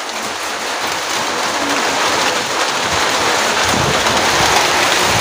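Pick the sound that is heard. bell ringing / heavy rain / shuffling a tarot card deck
heavy rain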